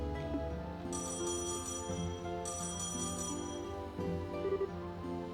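Outgoing phone call ringing in the Trails in the Sky SC video game, with repeated electronic ring tones over steady game music, clear and up close with no talking.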